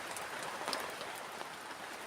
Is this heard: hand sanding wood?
no